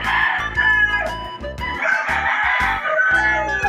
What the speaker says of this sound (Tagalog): Magpakain tayo ng manok.